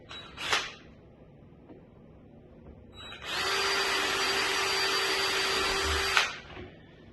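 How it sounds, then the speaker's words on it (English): A power drill bores holes for vanity drawer handles, giving a brief tap early on and then a steady, close whine of about three seconds that stops abruptly. "You got the holes drilled."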